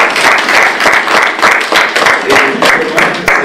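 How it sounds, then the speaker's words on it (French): Audience applause at an event presentation for Oceana, steady and fairly loud, with rhythmic clapping pulses running through the whole stretch and some voices mixed in. "Alors, un applaudissement."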